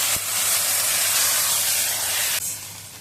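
Coriander leaf paste dropped into hot tempering oil, bursting into a loud, close, steady hiss that eases slightly before a brief dip and continues.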